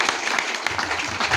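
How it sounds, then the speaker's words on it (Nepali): Brief burst of applause from guests at a Christian holy marriage ceremony in mid-western Nepal, a short patter of clapping at moderate distance. "ताली बजाउँ"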